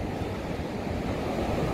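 Ocean waves at a beach in Mar del Plata on a day with a strong current, heard as a steady broadband wash of surf, loud and continuous, with some wind noise and no voices.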